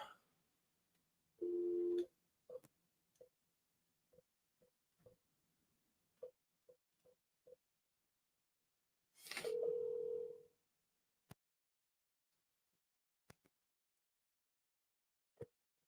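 Telephone dialing out to a real estate seller lead: two long ringback tone bursts separated by a series of short dialing beeps and clicks, faint and otherwise quiet.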